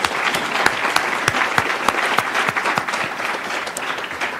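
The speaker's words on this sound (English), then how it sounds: "Let's give Darren a round of applause, shall we?" An audience at a school board meeting claps steadily throughout, a dense, even round of applause with no voices over it.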